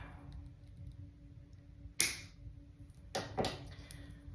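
Small jewelry scissors snip a tiny metal ring off a bead charm, one crisp close click followed by a couple more quick snips in a quiet room.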